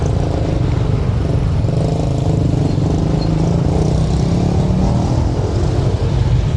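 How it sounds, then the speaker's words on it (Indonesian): Traffic crawling in a jam of cars and motorcycles on the road by Safari Garden in Puncak, Bogor: a loud, constant low engine drone with steady rumble and no distinct passes or horns. "Wah, macet nih."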